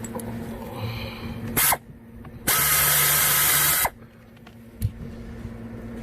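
A power tool removes the glove box bolts of a 2013 Ford F-150: a short whine, then a longer loud high-pitched burst of about a second, each cutting off sharply, with faint clicks and clunks between them.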